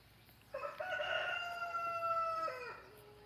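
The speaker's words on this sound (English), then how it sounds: "You hear my rooster? He's talking to me." A rooster crows once, a long drawn-out call rising then trailing off, moderately close against quiet background.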